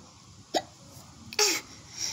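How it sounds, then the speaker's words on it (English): A child hiccups twice in a quiet room, two short, sharp catches spaced about a second apart, fairly close, with soft breathy noise between and a brief vocal sound afterward. "I had the hiccups. I still have the hiccups."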